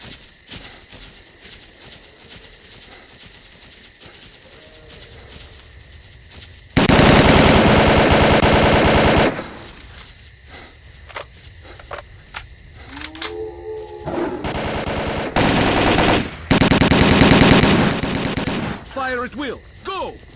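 Gunfire in the S.T.A.L.K.E.R. video game: long loud bursts of automatic rifle fire alternating with shorter rattling volleys and single shots, separated by quieter stretches of ambient game sound.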